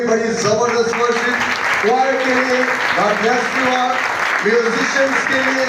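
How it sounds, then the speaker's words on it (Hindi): Audience applause at a prayer festival sermon, a steady broadband clatter of clapping running through the whole stretch beneath someone speaking loudly over a microphone. "जोर से ताली बजाइए"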